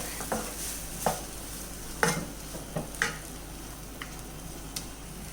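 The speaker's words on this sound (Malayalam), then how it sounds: "അപ്പോൾ ഇതെല്ലാം അരപ്പ് നമുക്ക് നല്ലതുപോലെ ഒന്ന് വഴറ്റിയെടുക്കാം." Ground raw masala paste with onions is sautéed in a pan for butter paneer masala, the spoon scraping in spaced, sharp strokes over a faint steady sizzle and background hum.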